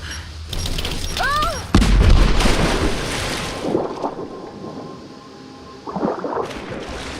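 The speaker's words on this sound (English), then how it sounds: "Throw the grenade!" A grenade blast in the Rise of the Tomb Raider game goes off as a loud, close boom with a low rumble that decays over several seconds, set among game ambience with chirping tones and scattered voices.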